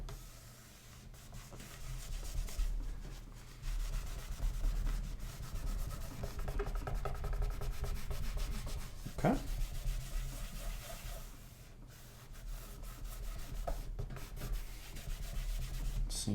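A cloth wipes excess Scott's Liquid Gold wood polish off a wooden cabinet, producing soft, continuous rubbing strokes, faint and close, with brief pauses between passes and no talking.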